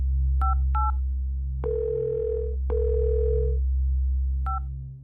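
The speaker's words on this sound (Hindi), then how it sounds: "लाओ मिस्टर खलीफा को फोन लगाओ" A steady low telephone dial tone runs throughout, with short dialing beeps at the start and end and a couple of longer tones between.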